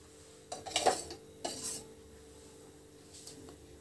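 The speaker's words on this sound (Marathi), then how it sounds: "आपण 2 चमचे तूप घालणार आहे।" A metal spoon clinks and scrapes against a hot kadhai as two spoons of ghee go in for ginger paste, with a few quiet, close clatters and a faint rub afterwards.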